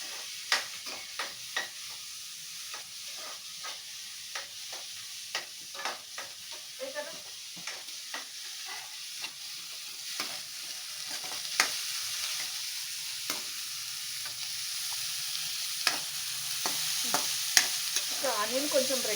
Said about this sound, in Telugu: కొంచెం రెడ్ అయ్యేంత వరకు ఇట్లా ఫ్రై చేసి ఇట్లా కలుపుతూ ఉండండి.